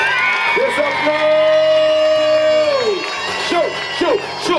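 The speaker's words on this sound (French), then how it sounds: "Des applaudissements." Beauty pageant audience cheering and whooping for a runner-up, loud shouts and voices rising over music with sustained tones, crowd noise swelling and dipping throughout.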